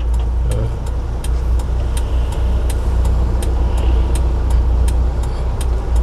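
Manual car pulling onto a road during a Korean driving lesson: a low, steady engine hum with a deep rumble, continuous and fairly loud throughout, with faint regular ticking above it and no talk.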